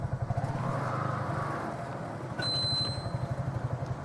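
A TVS King auto rickshaw pulling away in first gear, its small engine chugging in a rapid steady putter, close by, with a brief high whistle partway through.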